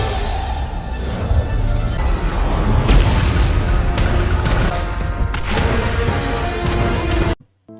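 A Makine warship blowing up in the Samurai Rabbit video game: dense rumbling blasts and crashing impacts build and roll continuously for several seconds, then cut off abruptly into silence.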